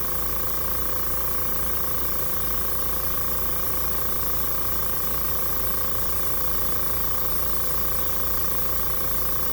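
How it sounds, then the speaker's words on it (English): An airbrush blows a steady, unbroken hiss of air across alcohol ink drops on a surface, close and constant throughout with no voices. "angle my airbrush away from that petal"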